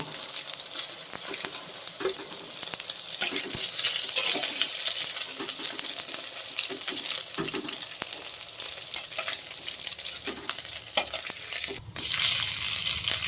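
Paneer pieces shallow-frying in a pan, a continuous close hiss of bubbling oil with occasional clicks and pops as the pieces are turned.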